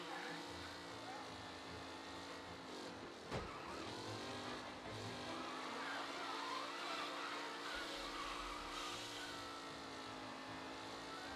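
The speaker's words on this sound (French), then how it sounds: "Les voitures sont au coude à coude." Race cars from the Mafia video game roar steadily together in a close racing pack, engines droning and whining continuously with a brief sharp thump partway through, a speaking voice also present.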